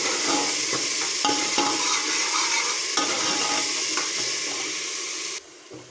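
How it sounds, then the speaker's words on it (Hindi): Green chillies and tomato paste frying in a pan, a continuous loud sizzle with scraping stirs breaking through at intervals, close up, then dropping away abruptly near the end. "हरी मिर्च और टमाटर जो है वो भून लिए हमने"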